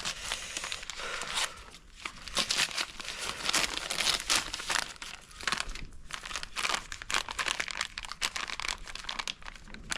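A packet of pesticide dust, ASD Super Dust DP, is handled for preserving stored maize, with continuous close crinkling and crunching of the plastic pack over about ten seconds, fairly quiet and without talk.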